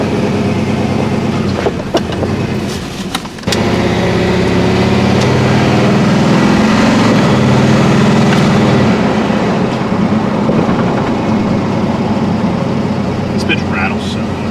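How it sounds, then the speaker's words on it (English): An old single cab truck rolls along on a test drive, its cabin full of steady low road and engine rumble with loose rattling throughout, and a voice speaking over it. "This bitch rattles so much."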